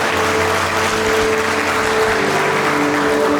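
A wedding crowd claps steadily and warmly, a dense wash of applause holding at an even level throughout with no voices on top.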